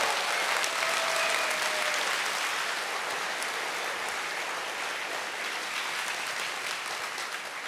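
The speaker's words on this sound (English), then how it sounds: "I think our registration team deserves a round of applause." An audience at the Eurofurence 28 opening ceremonies applauds the registration team, sustained dense clapping from a large hall crowd that stays loud and slowly eases toward the end.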